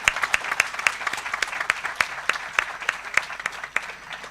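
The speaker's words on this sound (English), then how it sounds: "Please give them a big round of applause" Audience at a conference inauguration claps steadily, a dense rolling applause with sharp individual claps standing out, filling the hall without any talk on top.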